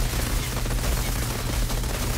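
A shotgun called the Bulwark fires in the video game Outriders, a single loud, dense blast whose boom carries through the whole short moment without any pause.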